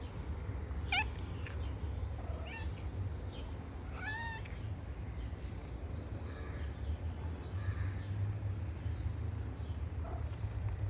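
A few faint, short cat meows scattered over a steady background noise, distant and quiet rather than prominent.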